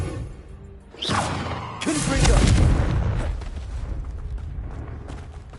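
A Confringo blasting spell goes off in Hogwarts Legacy, a sharp whoosh followed by a loud, rumbling explosion that swells and slowly decays under ongoing game ambience.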